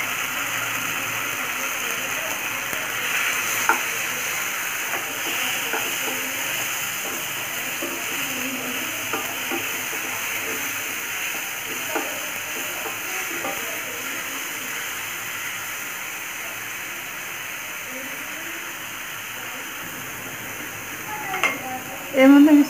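Tomatoes stir-frying in a hot pan for Chinese tomato and scrambled egg, a steady close sizzle and hiss with occasional stirring scrapes and a clatter of the pan near the end.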